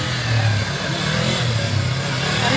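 A Yamaha motorcycle engine is revved during a safety riding training session in Yogyakarta, a loud, close, continuous roar that swells and eases slightly without speech.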